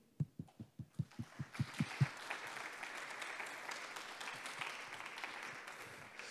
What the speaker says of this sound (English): the first thing I'm going to do is just to applaud all of you.